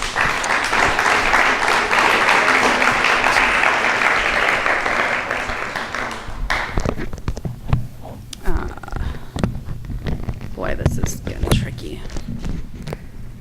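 At a community conference, an audience breaks into dense, loud applause for about six seconds, then it thins to scattered claps, shuffling, handling noise and quiet voices close by as the next speaker takes the microphone.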